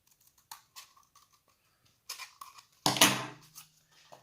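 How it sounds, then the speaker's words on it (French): Scissors cutting a point into paper for a cat craft: a few soft, separate snips, then a louder close crunch of paper near the end, in a quiet room with no talking. "Il va falloir découper un tout peu une pointe"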